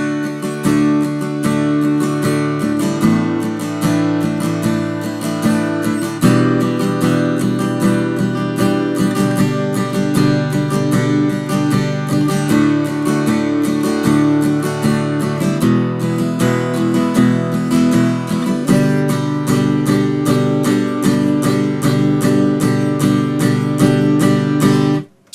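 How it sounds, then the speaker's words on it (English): An acoustic guitar strums a steady, full rhythm through a song chorus, chords ringing continuously and loud for the whole stretch with no voices, ending abruptly. "this is where the acoustic guitar actually kicks in"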